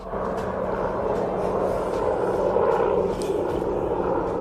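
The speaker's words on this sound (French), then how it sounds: "C'est le bruit d'un hélicoptère de l'armée." A military helicopter passes at a moderate distance, a steady, droning engine hum with a faint rhythmic beat, continuous throughout.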